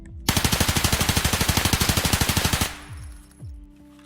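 Full-auto gunfire in the video game Escape From Tarkov: a rapid, evenly spaced burst of about twenty-five loud shots lasting over two seconds, followed by fading echoes and a few clinks.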